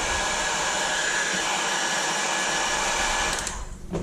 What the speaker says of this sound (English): I'm going to use heat gun because all the plastics you heat up a little bit, it will back to original.